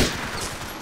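Sustained dense gunfire from GTA IV, a continuous loud rattle of shots filling the whole moment with no pause.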